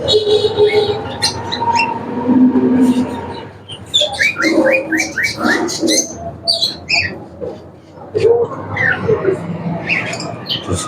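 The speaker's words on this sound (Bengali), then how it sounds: "দেখতে পাচ্ছেন কত সুন্দর পাখি" Many birds in a pet bird shop in Nawabganj, Dhaka call, chirp and squawk in quick repeated bursts, close and lively, with a voice speaking at moments over them.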